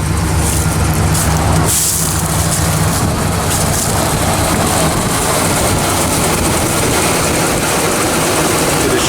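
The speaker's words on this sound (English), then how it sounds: "Shot of the engine running" A stock 1973 Chevrolet El Camino SS 454 engine runs with a steady, loud rumble throughout, an even mechanical drone with no clear variation in pace.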